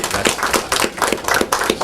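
Audience clapping after a 2006 Nobel laureate physics lecture at Alabama A&M University: steady, fairly loud hand claps with a rhythmic pulse throughout, no one speaking over it.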